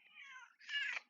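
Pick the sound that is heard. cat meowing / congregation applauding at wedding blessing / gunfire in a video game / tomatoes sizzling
cat meowing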